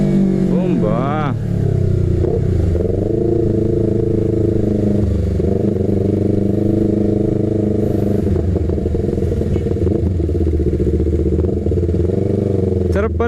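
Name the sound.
Yamaha R3 motorcycle engine revving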